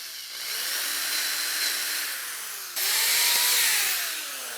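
A power drill bores into wood while building a courtroom stage set, a close, loud motor whine that holds steady, then jumps in pitch and intensity partway through as the bit bites.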